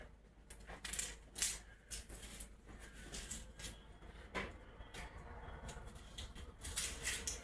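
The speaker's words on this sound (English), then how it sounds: "Now the next thing is to cut up the actual onion." A kitchen knife slices through an onion in a quiet, steady series of soft, crisp taps and cuts, fairly close but faint, with no voices.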